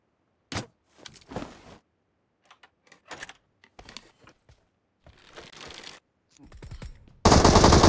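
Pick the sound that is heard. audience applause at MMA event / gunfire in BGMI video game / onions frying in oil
gunfire in BGMI video game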